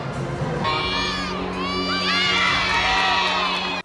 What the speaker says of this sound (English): Fans are stomping, clapping, and cheering for the LSU gymnastics team right here in the PMAC.